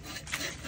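A hand saw cutting through wood, a raspy rubbing stroke that rises and falls as the blade is pushed back and forth, close and fairly quiet, with no talking over it.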